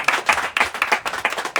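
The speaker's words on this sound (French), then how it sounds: "Il faut l'applaudir encore." An audience claps at a tribute event, a quick burst of close, uneven handclaps with several sharp overlapping hits in under two seconds.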